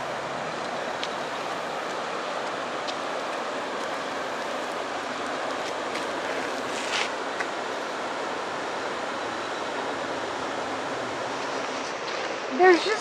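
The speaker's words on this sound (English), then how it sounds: "And I'll be quiet so you could just hear the water." River water flowing at Swepsonville River Park, North Carolina, a steady, even rush and babble from nearby with faint splashes and a brief knock near the end.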